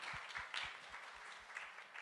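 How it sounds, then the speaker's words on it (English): An audience at a women's awards ceremony claps steadily in a faint, distant-sounding round of applause with soft rhythmic thumps throughout. "A big round of applause"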